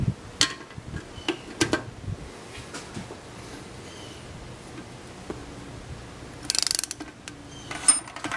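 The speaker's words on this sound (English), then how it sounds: "My torque wrench." Torque wrench ratcheting on bolts during reassembly of a 1993 Toyota MR2 E153 transmission: sparse, sharp clicks and ratchet bursts in short groups, close up in a quiet garage with faint handling clatter.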